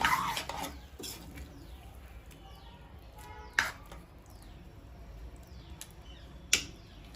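Masala Maggi noodles being stirred in a pan on the stove, giving soft scraping and clinking of a utensil with a couple of sharper knocks against the pan, quiet and close with no talking.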